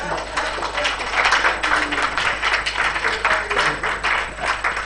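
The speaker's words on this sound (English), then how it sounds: "Please can we give me and the professor a round of applause?" An audience applauds the speakers at a South African Human Rights Commission lecture on 28 years of democracy, a steady dense patter of many hands clapping together that holds for several seconds.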